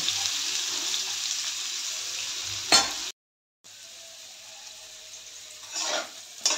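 Jackfruit pieces fry in hot oil, giving a steady close sizzle that breaks off for a moment and then carries on, with a few stirring clatters and no talking.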